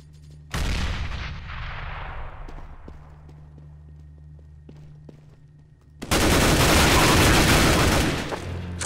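A grenade in the Counter-Strike: Global Offensive video game goes off with two loud, broadband blasts, the first decaying over a few seconds, the second sustained near the end, with faint clicks and footsteps between them.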